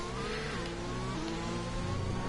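An F1 car engine screams in the video game F1 2021, with stepped pitch drops as it upshifts out of a corner, a continuous high-revving whine with several quick gear changes.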